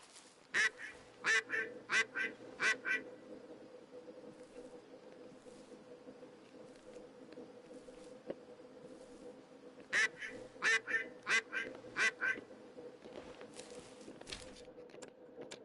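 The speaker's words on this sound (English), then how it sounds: "This is where the ducks are supposed to be." Ducks quack in bursts in the Way of the Hunter hunting game: several quick rounds early on, a long quieter stretch of ambient hum, then another cluster of close quacks.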